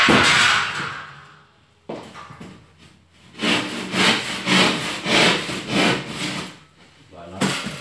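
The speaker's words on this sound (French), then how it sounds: "Je prends la scie." A hand saw cuts wood during home insulation work: after a brief scrape and pause, a run of about seven even back-and-forth rasping strokes sounds close and clear, with no talking.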